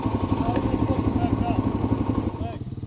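ATV engine running in a forest, a close, steady rumbling idle with a regular pulsing beat that eases slightly near the end, with a voice talking over it.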